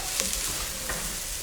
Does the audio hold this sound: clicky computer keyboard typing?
no